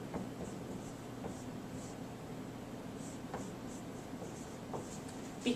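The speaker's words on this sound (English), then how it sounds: "I'm going to write down my denominator." A pen writes on paper at a desk during a math lesson, with faint scratchy strokes and light taps over a low steady background hum, close but quiet.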